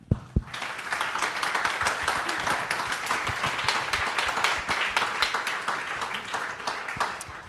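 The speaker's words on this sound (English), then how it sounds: "Can we have a round of applause for them?" A conference audience applauds a politics panel with steady, dense clapping that fills the whole stretch at even loudness, with no voices on top.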